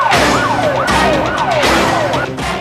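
Ambulance sirens on emergency vehicles in Amman, Jordan, wailing loudly and close, with repeated sweeping up-and-down tones overlapping in a steady cycle.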